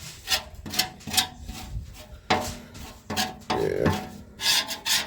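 A metal scraper rasps and scrapes built-up residue off the inside of a cooking chamber in short, repeated strokes, close and moderately loud, with a rough texture.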